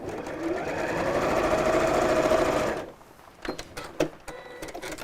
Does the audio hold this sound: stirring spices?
no